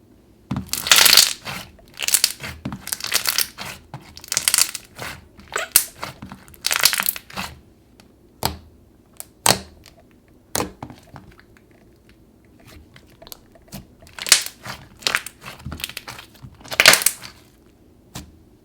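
Thick, glossy bubblegum-scented slime squished and pressed by hand, producing irregular close crackles, pops and sticky clicks in repeated bursts with quiet gaps between them.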